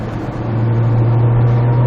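A Nissan GT-R engine pulls strongly under acceleration, a loud, steady, rising drone building over two seconds with no voices.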